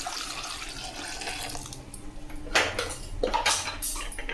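Water runs into a pot for sambar with lentils, dried chillies, onion, tomato, brinjal and turmeric, starting as a soft trickle and building into louder gushing pours near the end, with light clinks of the pot.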